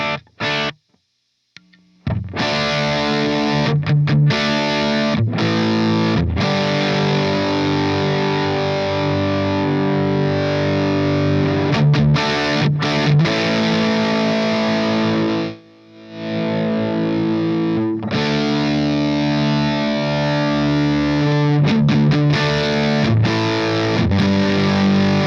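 Electric guitar played through a cheap Amazon overdrive pedal, giving a loud, continuous distorted tone with sustained chords and brief pauses between phrases, no talking.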